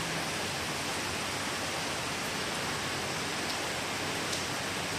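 Rain pours steadily onto a residential street in Chennai, a dense, unbroken hiss of falling water with no voices.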